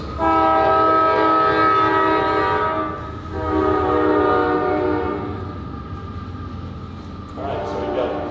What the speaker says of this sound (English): We got another train coming on.